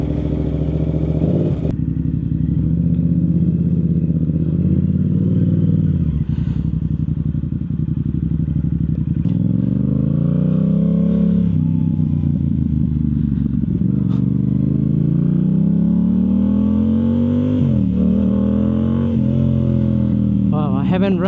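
A Yamaha YZF R7 fitted with a Yoshimura full exhaust roars loud and close while riding, its engine note rising and falling through repeated revs and gear changes with a throaty, continuous drone.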